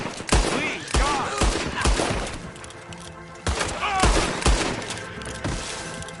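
Gunshots crack in rapid irregular volleys during a raid in Red Dead Redemption 2, loud and close with sharp repeated reports and echoing tails, while someone shouts between the shots.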